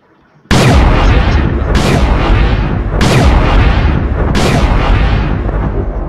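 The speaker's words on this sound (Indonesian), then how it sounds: "dia memiliki sebuah senjata buat nembak-nembak ya teman-teman" Titan Speakerman Blaster weapon in a modded Minecraft game, four heavy booming blasts fired about every 1.3 seconds, loud and close, each ringing into the next.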